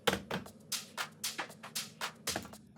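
A heavily edited music loop for a dance pop track, played dry without effects: a steady rhythmic pattern of bright, hissy hits over a low sustained bed, repeating evenly and fairly quiet.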